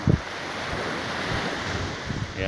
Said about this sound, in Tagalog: Ang lalakas ng alon, dagat.